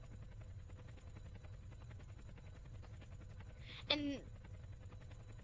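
A helicopter in the video game Emergency Landing gives off a steady low rotor drone throughout, with a short sharp chirp partway through; a voice speaks briefly.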